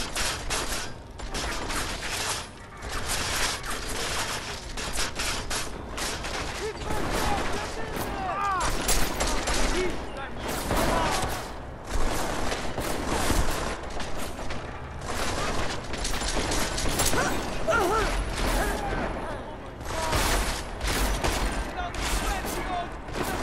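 Gunfire in the stealth-action game Deus Ex: Mankind Divided, a dense run of loud close shots and bursts filling the whole stretch alongside mechanical weapon clatter, with barely a pause between volleys.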